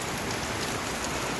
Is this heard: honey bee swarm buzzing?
no